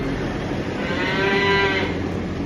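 Cattle on a farm give a long, loud, drawn-out moo close by, steady and rising slightly, with no talking over it.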